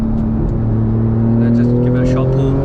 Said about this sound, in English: You can hear a bit more from the back. Let me just drop in a few gears. You can hear those crackles.